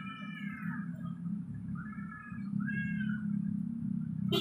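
Cats yowl and wail in drawn-out, rising cries over a steady low rumble of background noise, the calls overlapping as if in a standoff.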